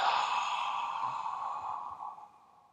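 One slow, deep breath is drawn and released as a long, audible sigh, close and fairly soft, fading out at the end.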